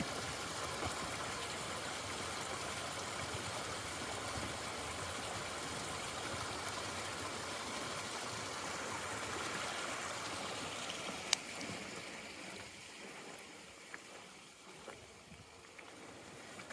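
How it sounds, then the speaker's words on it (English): Water from a mountain stream running down across a walking track on an autumn nature walk, a steady broadband rush that continues throughout, easing somewhat toward the end, with no talking. "There's another main stream coming down."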